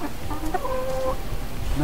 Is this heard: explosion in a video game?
no